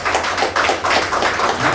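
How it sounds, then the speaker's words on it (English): An audience at an intimate talk show applauds, a dense steady patter of many hands clapping, loud and close, with no voices over it. "applause from all of you"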